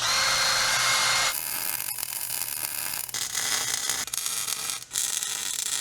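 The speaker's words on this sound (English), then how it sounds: "Only grind away in the area you want to weld to." An old Toyota truck frame being ground with a power grinder before bump stops are welded on: a loud, continuous abrasive whine and hiss, harshest at the start and then steadier, with no pauses.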